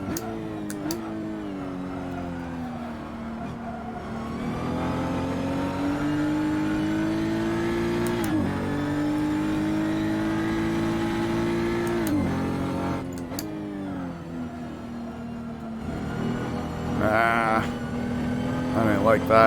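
Race car engine in a racing video game on hot laps at the Barbagallo circuit, revving hard and steady, with the pitch climbing and dropping sharply through gear changes for the whole stretch, loud and close.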